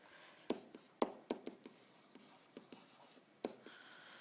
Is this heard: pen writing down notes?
yes